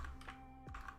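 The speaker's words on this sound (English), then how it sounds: "I can't type because I'm typing too fast." Fast typing on a computer keyboard, a few quick soft key clicks in a short flurry, faint against quiet room noise, with no one talking.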